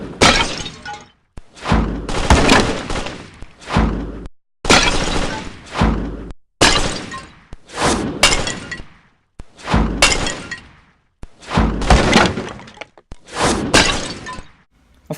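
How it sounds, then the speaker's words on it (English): MP5 auto rifle gunfire in AR Sharpshooter, an augmented-reality fruit-slicing style mobile shooting game, loud repeated bursts with shattering, breaking impacts, in regular bouts separated by brief gaps. "let's check out some gameplay with the MP5,"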